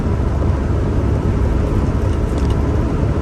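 An unladen Isuzu NPR/NKR light truck cruising along a 50 mph road, its steady engine drone and tire rumble loud and continuous with broadband road noise throughout.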